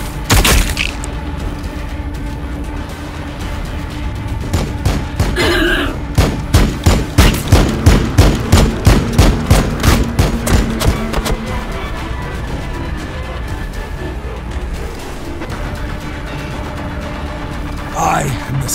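Rapid bursts of sci-fi gunfire from the Warhammer 40,000: Battlesector battle, a dense run of sharp cracks and booms peaking in a rhythmic volley mid-way, loud and close over a rumbling battlefield bed with occasional voices.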